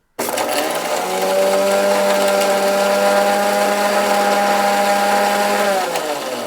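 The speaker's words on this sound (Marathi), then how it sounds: "तर चला करू मिक्सर आपण चालू." A kitchen mixer grinder starts abruptly and runs at a loud, steady whine for several seconds close by, then spins down at the end.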